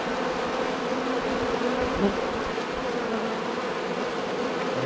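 Honey bees hum in a dense, steady drone around a hive during a spring transfer from a nuc, close and continuous; a couple of people exchange a few brief words over it.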